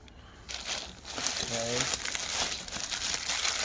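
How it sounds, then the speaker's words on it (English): Plastic and paper wrapping crinkles and crumples as aftermarket exhaust parts for a Honda Talon are unpacked, a steady rustle that picks up after the first half second and runs to the end, with talk over it. "Let's unwrap all of it."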